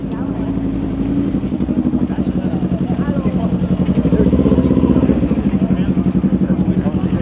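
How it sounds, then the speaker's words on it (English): Motorcycles ride into a night car meet with a close, loud, pulsing engine rumble that builds and stays steady for several seconds, mixed with crowd noise. "Got the bikes coming in."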